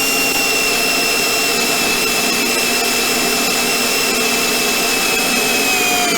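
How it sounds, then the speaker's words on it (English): A drill bit boring through a powder-coated steel tie-down hook while fitting a heavy-duty bumper on a Ski-Doo Expedition snowmobile, a loud, steady motor whine with a high tonal squeal held throughout, close up and with no talking. "it takes a little bit of effort to get the drill bit to go through the steel part as opposed to the aluminum"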